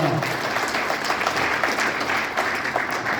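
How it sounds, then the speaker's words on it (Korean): Audience applause welcoming guests at a launch ceremony in Busan, a dense steady wash of many hands clapping throughout, fairly loud and continuous with some crowd murmur beneath. "뜨거운 환영의 박수를 부탁드립니다"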